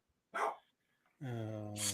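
A dog barks in two bursts indoors, a short sharp yelp followed after a pause by a longer, louder, tonal bark or howl near the microphone, with no talk over it.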